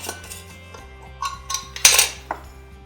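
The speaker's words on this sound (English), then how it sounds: "maybe about 3 dried apple rings, throw them in a mug" About three dried apple rings are dropped into a mug, making a few light, scattered clinks and taps against the mug, with one brighter clatter near the end, close and alone.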